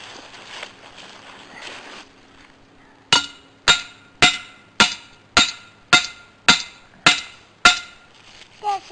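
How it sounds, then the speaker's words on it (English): A hammer strikes metal about ten times while raccoon traps are being set, sharp ringing clanks at an even, deliberate pace, loud and close, after a stretch of quiet rustling. "Got the hammer."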